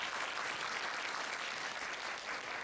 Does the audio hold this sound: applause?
yes